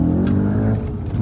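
Engine of an Audi RS4 B7 with a six-speed manual gearbox pulling away after a quick clutch release, a steady, loud, buzzy drone from inside the car that holds throughout with a slight dip near the end.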